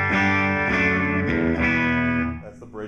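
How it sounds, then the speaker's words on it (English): Electric guitar on the bridge pickup running straight into an amp, with sustained, bright ringing chords that swell and decay over a few seconds, loud and close, ending with a short squeak of fingers on the strings. "That's the bridge pickup straight into the amp."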